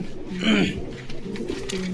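A male pigeon gives a low, soft coo at a pigeon market in Bogura, with faint murmuring and background noise around it.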